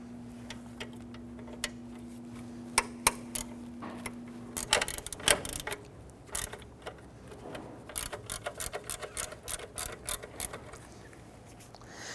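A ratchet loosens a 12mm bolt on the belt tensioner of a 1992–1996 Toyota Camry 2.2L four-cylinder, making quiet repeated ticking clicks in uneven bursts with a faint hum behind them.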